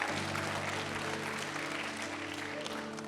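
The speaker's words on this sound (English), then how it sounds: "you can clap for that." A church congregation claps steadily at a fairly low level, with a dense wash of hands over a faint sustained hum beneath, continuing evenly throughout.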